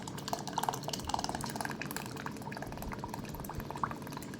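Water is poured into a pot of rice, a soft, close bubbling and trickling with small splashes and drips, fairly faint and without voices.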